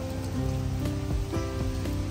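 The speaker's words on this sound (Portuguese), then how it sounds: "a chuva agora caiu, assim, muito forte" Heavy rain pours steadily at a botanical garden, a dense, constant wash with scattered drips and faint tonal hum beneath, continuous and fairly loud, with no talking.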